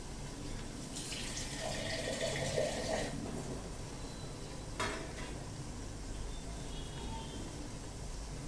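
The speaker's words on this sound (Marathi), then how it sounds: "झाकणावर आपण थोडंसं पाणी घालूया" Water poured over a pan lid while cabbage cooks beneath it, giving a soft steady splash and trickle for a few seconds, then a brief clatter and a low continuous hiss from the covered pan.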